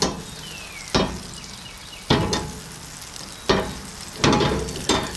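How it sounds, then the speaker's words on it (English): Butter sizzles in a Lancaster #8 cast-iron skillet over a propane stove on its lowest setting, a steady frying hiss with several sharp, louder bursts of crackle recurring every second or so. "Going in with about 2 tablespoons of butter."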